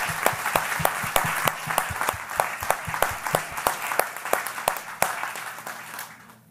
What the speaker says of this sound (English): I would ask for a round of applause for that